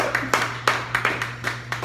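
Applause from a comedy club audience for a stand-up comedian, a spread of scattered hand claps with irregular louder bursts over a steady low hum, fairly close and moderate in level.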